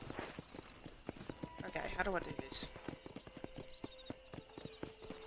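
Horse hooves clip-clop at a steady gallop in the Western video game Red Dead Redemption, a continuous rhythmic beat running throughout under a voice and game music.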